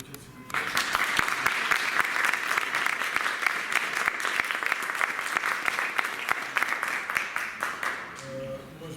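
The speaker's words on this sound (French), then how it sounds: "si on peut les applaudir, s'il vous plaît" An audience breaks into enthusiastic applause after a brief quiet start, dense clapping with sharp individual claps standing out, holding steady for several seconds before fading as a voice begins to speak.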